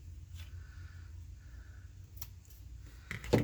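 Scissors snip through a strip of paper from a digital print to trim off a small knot, giving a few faint, quiet clicks and one sharper cut near the end.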